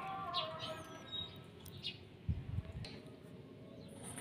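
Quiet whistled calls and chirps from a jalak suren, or Asian pied starling, come as thin tonal phrases and scattered short notes, with a couple of soft low thumps in between and faint background noise.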